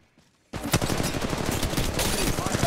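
Rapid automatic gunfire in the mobile video game Apex Legends, a sustained burst of dense, loud shots starting abruptly after a short quiet moment, with faint voice sounds underneath.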